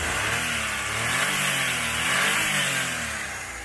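A turbocharged 660cc three-cylinder, 12-valve Suzuki Wagon engine revs up and down nearby in a steady, continuous drone with rising and falling pitch, heard alone without talk.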